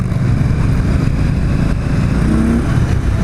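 A 2017 Victory Octane motorcycle engine pulls under acceleration, a loud, steady low rumble from close by with a brief rising tone near the end, no talking.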